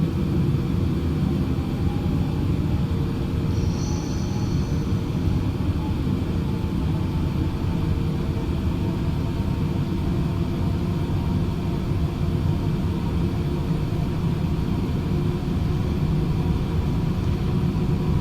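Engines of a Qantas Boeing 787-9 Dreamliner spooling up for takeoff on the runway, a steady loud low rumble and roar that holds constant throughout, heard from inside the aircraft.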